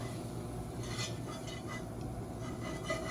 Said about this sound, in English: So I am going to add a 1/4 cup of all-purpose flour, and we're just going to stir that in